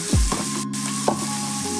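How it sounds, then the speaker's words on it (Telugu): Cluster beans fry in oil with a soft continuous sizzle, joined by a low steady hum and a couple of brief scraping touches. "ఫ్రై కాబట్టి మనం నూనెలో ఇట్లా ఒక 10 మినిట్స్ వేపుకోవాలి"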